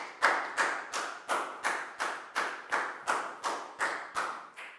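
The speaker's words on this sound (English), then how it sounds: "Big round of applause for Bangpon" A class of schoolchildren clapping for a classmate during a maths lesson, a rhythmic unison of about eleven evenly spaced claps, each sharp and decaying quickly, fairly close.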